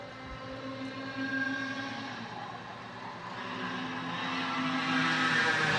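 KA100 junior karts race at a grand nationals kart meet, their engines a steady droning whine with several overlapping tones that swells louder toward the end, heard at a moderate distance with no talk.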